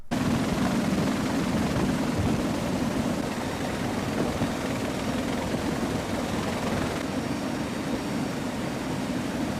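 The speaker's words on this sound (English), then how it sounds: "Here's some beautiful footage of a helicopter coming to refuel while also carrying some heavy" A helicopter carrying heavy cargo approaches to refuel, its rotor and engine producing a steady, loud, broadband roar that stays constant throughout.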